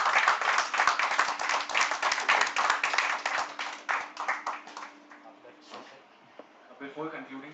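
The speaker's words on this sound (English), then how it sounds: "Let's have a round of applause for our session chairperson also." A workshop audience claps for the session chairperson, a dense burst of hand applause that fades out over several seconds, followed by a little quiet talk.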